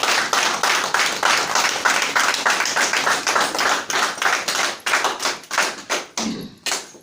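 A crowd at a Lamuka gathering in Brussels claps in tribute to Martin Fayulu, a steady run of loud, close hand claps that thins into a few scattered claps near the end.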